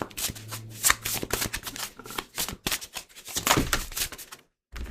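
A deck of oracle cards riffled and shuffled by hand in quick, crackling bursts, close and fairly loud, with a brief pause near the end before the shuffling resumes.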